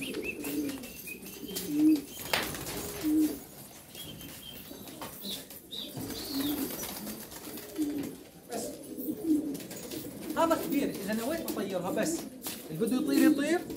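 Pigeons in a loft cooing in low, repeated soft calls with occasional wing flaps, close by, while people talk intermittently.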